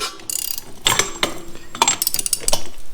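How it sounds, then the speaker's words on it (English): A hand ratchet tightens the pinion nut on a Chevy Nova rear end, giving bursts of close, loud metallic clicking with some clinks between them. "tighten this nut up to where your pinion doesn't have any play in it, front to back"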